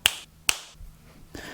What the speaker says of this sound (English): I'll just snap my fingers.